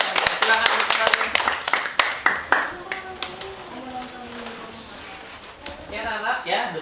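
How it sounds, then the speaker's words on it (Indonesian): A classroom of students claps for quiz winners, with brisk, close, sharp claps in the first few seconds that then thin out as a teacher's voice carries on over the room. "Beri aplaus untuk silakan kembali."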